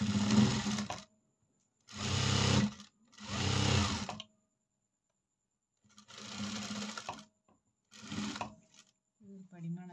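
An electric sewing machine stitching down the folded hem of a blouse, running in several close, steady whirring bursts of one to two seconds separated by silent pauses.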